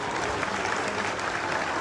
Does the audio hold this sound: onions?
no